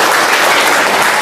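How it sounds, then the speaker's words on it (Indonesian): A seminar audience at a student volleyball club's leadership session breaks into loud, dense applause, steady and close, with no voices over it. "Tepuk tangan untuk Satria."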